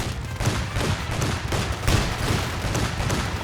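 Units firing in a Company of Heroes 2 1v1 match produce dense, continuous volleys of rifle and machine-gun fire, with heavier shots punching through at irregular moments across the whole stretch.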